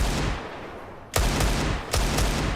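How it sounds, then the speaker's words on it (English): Loud, close gunfire in a Counter-Strike match during a pro ESL Pro League game: a sustained burst, a brief lull, then two more rapid bursts of rifle shots firing through smoke. "Keep firing through smokes, eventually something will hit."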